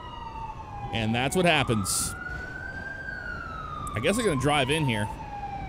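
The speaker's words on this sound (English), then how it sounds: "But check out that ambulance. Isn't that cool?" Ambulance siren in the video game GTA 5, wailing in rising and falling sweeps through the whole stretch, loud and near, with someone talking over it in two bursts.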